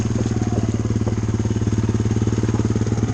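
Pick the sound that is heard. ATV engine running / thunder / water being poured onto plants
ATV engine running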